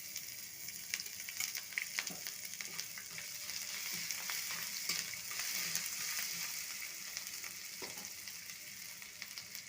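Cashews and grated ginger frying in hot oil for lemon or coconut rice, a steady dense crackling sizzle with small pops throughout, fairly quiet and close, no speech.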